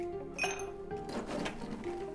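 Ice cubes clatter and clink into a glass in two short, bright bursts, close by and fairly quiet.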